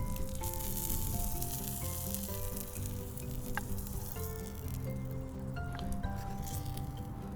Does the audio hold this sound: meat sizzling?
yes